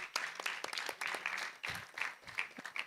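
Audience applause and clapping at the close of a session during a breast cancer awareness walk event in Kigali, Rwanda; a steady, fairly faint patter of many hands lasting a few seconds.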